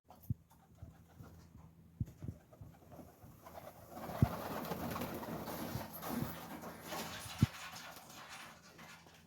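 Pigeons kept at a home loft, soft, low cooing and fluttering close by, with sharp clicks and knocks scattered through and a denser murmur of birds in the second half.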